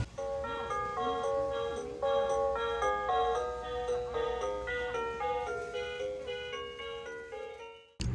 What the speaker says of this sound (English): I hear Christmas music.